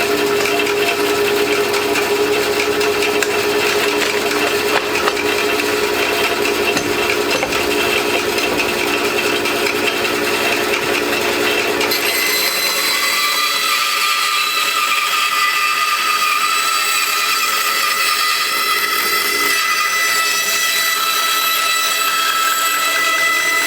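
An Axminster AP1854BV bandsaw cuts through rough forestry wood, a loud continuous mechanical whine and rasping cut that changes character midway as the blade runs on, with no speech.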